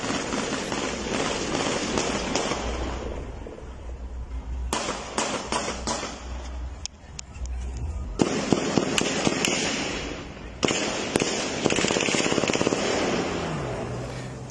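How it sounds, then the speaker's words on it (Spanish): A string of sharp, cracking bangs, some in quick bursts, rings out at a distance over steady background noise, with pauses between volleys. "mientras escuchan varios disparos"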